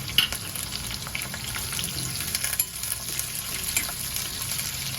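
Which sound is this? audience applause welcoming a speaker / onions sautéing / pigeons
onions sautéing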